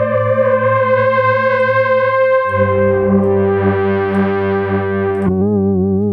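A Psychic Modulation MondoMelt effects pedal on a random patch turns a sustained tone into a loud, buzzy, distorted drone that shifts pitch midway and then wobbles and warbles unsteadily, with no talking.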